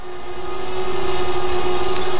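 A DJI Spark quadcopter drone climbs straight upward, its propellers giving a loud, steady, high-pitched whine that swells slightly as it lifts off close by.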